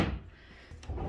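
A flip-down door on a large hotel dresser cabinet in a two-bedroom suite swings open with a brief soft thump and knock, heard alone and close in a quiet room.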